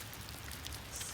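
Steady rain pattering in a dark Pacific Spirit Regional Park rainforest, a continuous close hiss of drops on leaves and ground with no voices.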